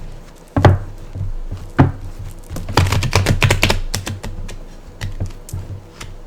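Quick crisp riffling and tapping of tarot cards being shuffled close up, in uneven bursts with sharp clicks and soft slaps between pauses.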